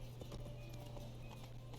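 Steady clip-clop of horse hooves at a walking pace in the video game The Witcher 3: Wild Hunt, close and moderately loud over a low constant hum.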